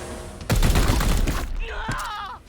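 Rapid gunfire bursts from the turn-based game Warhammer 40,000: Chaos Gate - Daemonhunters, a loud fusillade of overlapping shots lasting about a second, then a trailing electronic warble with one more sharp crack.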